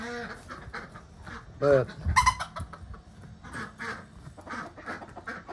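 Chicks and ducks in a coop chirp and quack nearby, with a few loud quacks and peeps standing out over rustling, while a person talks briefly.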